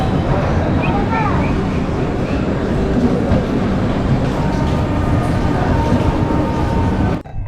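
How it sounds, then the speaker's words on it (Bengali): The Ajmer SF Express passenger train from Kolkata to Agra runs at night, a loud continuous rumble and rattle heard from inside with wheels clacking steadily on the rails. "নির্ধারিত সময় রাত্রি ঠিক দশটা পঞ্চান্ন মিনিটে ট্রেন আমাদের নিয়ে যাত্রা শুরু করলো আগ্রার উদ্দেশ্যে"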